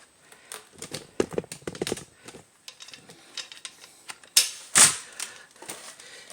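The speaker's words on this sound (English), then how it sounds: "So now we're going to continue to remove the 17mm bolts that are in the back" A 17mm socket on a breaker bar working brake caliper bolts on a 2010 Kia Soul, a run of quick metallic ratcheting clicks and taps close by, with two louder sharp clanks near the end.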